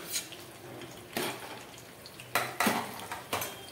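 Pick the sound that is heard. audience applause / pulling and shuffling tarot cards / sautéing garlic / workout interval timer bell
sautéing garlic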